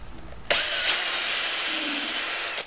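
A power drill pre-drills a screw hole in a maple burl pepper mill: one steady, loud whine starts abruptly and runs for about two seconds before stopping, with no talk.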